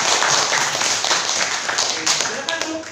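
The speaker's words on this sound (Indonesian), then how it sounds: "Kita beri tepuk tangan buat kelompok 3." A classroom group claps for group 3 after their presentation, a brief, dense, close patter of hands that stays steady for a few seconds.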